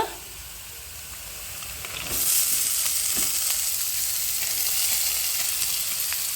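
Onion and green chilli fry in a pan for a drumstick-leaf palya: a softer sizzle for two seconds, then a louder, steady frying hiss with faint stirring clicks, close up and with no talk.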